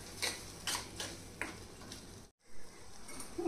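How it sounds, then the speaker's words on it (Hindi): Chutney being stirred in a pan over a low flame, with soft scraping strokes and a faint sizzle, quiet and close, broken by a brief silence before stirring resumes. "इसको मिलाएंगे अच्छे से"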